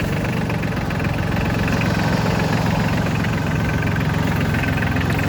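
Solis 26 tractor with a Mitsubishi diesel engine idling, a loud, steady, close rumbling chug that runs unbroken and evenly throughout, with no voices.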